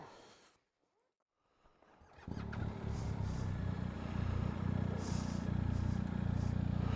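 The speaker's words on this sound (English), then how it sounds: "What have you got your engine going for?" A car engine idles low and steady on a Scottish isles road trip, rumbling in after a quiet start and then continuing evenly, with a faint clatter on top.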